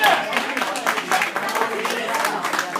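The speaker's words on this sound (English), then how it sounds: "Give me another round of applause for my brother." A comedy-club audience applauds the comedian's brother with a loose, steady patter of claps that carries on for a few seconds while people talk over it.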